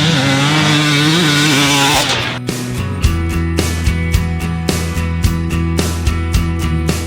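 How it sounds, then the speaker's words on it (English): A 2022 KTM 250SX two-stroke motocross bike engine revs steadily, then drops to a choppy, pulsing idle with repeated sharp rhythmic pops and a strong low hum, loud and close. "we have the 2022 KTM 250SX two-stroke"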